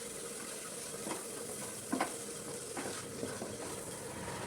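Masala powder being stirred in a pan for a simple Kerala-style chicken curry, a soft steady sizzle with a few light scraping knocks from the spoon, quiet and close.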